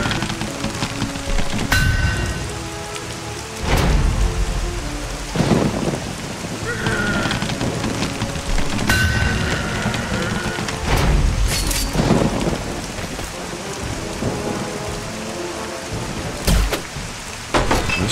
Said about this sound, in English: Why did it have to rain today,